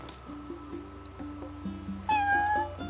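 A cat meows repeatedly in Final Fantasy XV, with short calls over a steady low game music bed, and a louder, drawn-out meow near the end.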